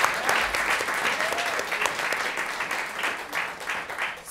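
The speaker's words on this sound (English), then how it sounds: "Let's give him a round of applause" A panel-discussion audience claps for a speaker, with steady, moderately dense applause that continues for several seconds and swells slightly toward the end.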